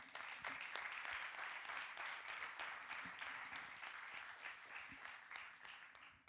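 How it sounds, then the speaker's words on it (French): Audience at a festival round-table applauds steadily and fairly close, a dense even patter of many hands that carries on throughout without pause. "Je voudrais que vous puissiez les applaudir."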